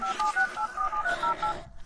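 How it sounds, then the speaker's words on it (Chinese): A rapid string of about ten telephone keypad tones beeps in quick succession, close and clear. "要不我赶紧给林总打电话"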